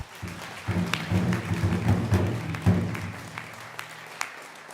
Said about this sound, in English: Another round of applause for our student speaker.